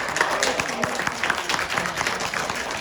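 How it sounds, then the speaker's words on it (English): An audience at a community gathering gives a round of applause: scattered irregular claps under people talking nearby. "let's give a round of applause also to Sister Angel for the work there."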